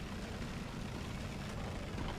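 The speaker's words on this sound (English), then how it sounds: "Yeah, I'm hearing airplanes, but I'm not seeing them on radar." Aircraft engines drone steadily in War Thunder, a continuous low rumble with broadband noise at moderate distance, unbroken for the whole stretch with no talk over it.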